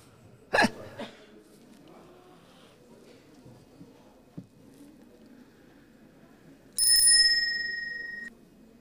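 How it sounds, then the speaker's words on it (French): A bicycle bell rings once with a bright, sustained metallic tone that slowly decays, following a couple of faint clicks over quiet background murmur. "cette petite sonnette qui nous réveille quand on est sur le vélo"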